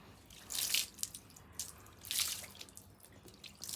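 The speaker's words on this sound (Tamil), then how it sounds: "ஏண்டா குண்டா, சாக்கடையிலே குளிச்சு ஃபர்ஸ்ட் டைம் குளிக்கிறியாடா?" Water runs and drips in soft bursts while a dog is bathed, with two louder splashing surges about a second apart against a quiet background and no voices.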